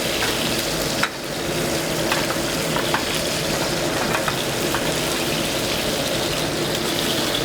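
Fish skin frying in a hot pan, a dense continuous sizzle with scattered crackles and spits, one sharper knock early on, steady and close with no speech.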